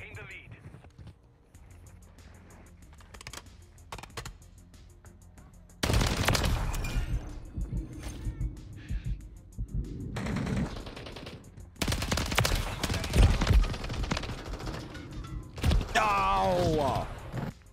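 STG 44 rifle fire in the video game MW3 Warzone: bursts of automatic gunfire alternate with quieter stretches, mechanical clicks and a player talking, loud and close.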